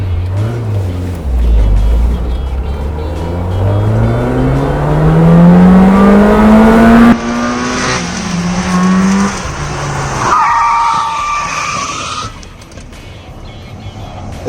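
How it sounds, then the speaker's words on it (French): Peugeot car accelerating to about 70 km/h, then braking hard without ABS: a rising engine note climbs through the gears, cuts off, and gives way to loud tyre screech and skidding, close and continuous with no talk. "je vais prendre une vitesse de bord de 70 km/h et arrivé au plot, je vais piler ce qui s'appelle sec de chez sec"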